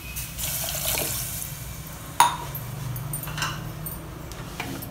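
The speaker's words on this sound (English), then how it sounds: "Next add water to the pressure cooker." Water pours steadily into a pressure cooker during home cooking of a potato sabzi, a close, continuous splashing stream with a brief sharper clatter midway and no talking.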